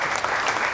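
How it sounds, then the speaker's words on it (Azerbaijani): A short burst of dense audience clapping during a comedy show, loud and even from start to finish. "Alqışlar səsdir."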